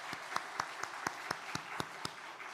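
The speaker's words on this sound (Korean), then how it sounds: "박수 한번 할까요?" A church congregation at a Wednesday service at a national defense university claps in a quiet, evenly spaced rhythm, about ten crisp unison claps heard from a distance.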